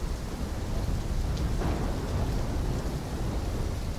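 A thunderstorm in Call of Duty Black Ops 3, dense steady rain hissing continuously with a low rumble underneath, loud and unbroken throughout.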